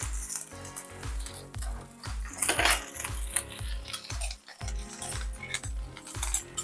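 Minute rice poured into a metal cooking pot, a rhythmic series of clinks and scraping taps with rattling grains in between, steady and close.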